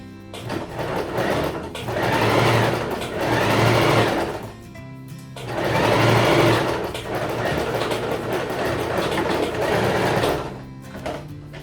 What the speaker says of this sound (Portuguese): Não esquece de fazer arremate no começo e no final da costura aqui.